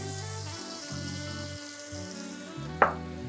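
Carrots and white wine going into a hot pan for a crozet risotto, a soft steady sizzle with a brief sharp splash near the end, no voices.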